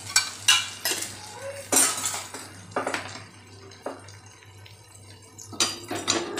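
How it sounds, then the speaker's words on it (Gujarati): A spatula stirs a spiced tomato roti mixture in a pan, giving a series of close, sharp metallic scrapes and clinks in uneven bursts over a low steady hum. "મસાલો બધો એકદમ સરસ મિક્સ થાય ત્યાં સુધી આપણે આમ હલાવતા રહેવાનું છે."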